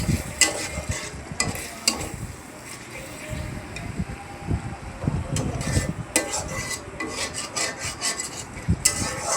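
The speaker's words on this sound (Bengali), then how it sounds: "জিরা বাটাটা দিয়ে কিছুক্ষণ নাড়িয়ে নেব।" Meat with cumin paste being stirred in a pan, a steady scraping and rubbing with a soft sizzle underneath, close and continuous.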